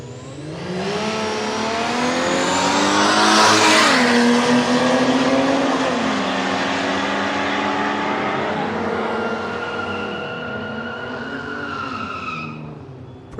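Mitsubishi Sigma and Cordia, 1980s cars, launching in a drag race, with loud engines revving and roaring as they accelerate hard, pitch climbing through gears and then fading.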